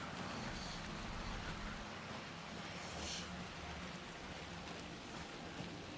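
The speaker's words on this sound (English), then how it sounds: "This is just a nice, calming rain and creepy whispers." Calm, steady rain falls softly in the video game Alan Wake 2, a quiet, even patter with faint hiss and no clear voices.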